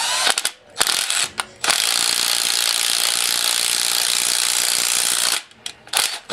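An impact wrench tightens the upper ball joint nut on a 1992 Toyota 4Runner, a loud continuous rattling hammer lasting several seconds, framed by short bursts at the start and end.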